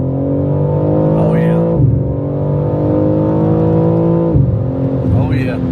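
A stock car engine pulls hard through second gear near 5,000 rpm, a loud steady rising drone with a shift-like dip partway, while people talk faintly over it.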